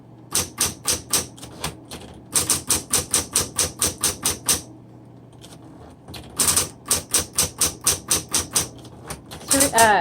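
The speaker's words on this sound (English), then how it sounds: "Electric typewriters have 3 keys that have an auto repeat." Rapid bursts of keystrokes on a 1960s Smith Corona Coronet Electric 10 typewriter in quick, even runs separated by short pauses, close and crisp, with a steady motor hum underneath.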